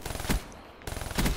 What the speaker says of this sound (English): I have to like machine gun them for the end of the video